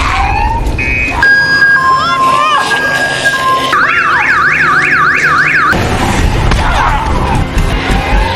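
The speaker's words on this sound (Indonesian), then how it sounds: "usaha itu malah membuat alarm berbunyi hingga memancing gerombolan zombie" A car alarm goes off in a zombie TV drama, cycling through loud warbling and whooping siren patterns with abrupt pattern changes, blaring close over rumbling background sound and scattered voices.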